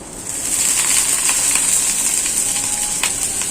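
A pan of frying onions with turmeric, chilli powder, salt, ginger-garlic paste and green chillies sizzles steadily after water is poured in, a bright continuous hiss close by with a few faint clinks.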